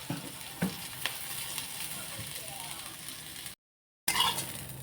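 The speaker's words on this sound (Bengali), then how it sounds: "আমি ভেজে নিচ্ছি একটু পেঁয়াজ, তার লঙ্কা আর রসুন একসাথে নিচ্ছি" Onion, chili and garlic fry together in a pan with a steady close sizzle, broken by stirring scrapes and clinks. The sound cuts out briefly near the end and then returns.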